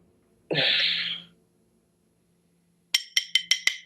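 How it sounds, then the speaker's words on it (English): A glass is tapped in five quick, bright clinks near the end, following a loud breathy burst and a stretch of quiet. "clinking my glass really pisses off my trolls"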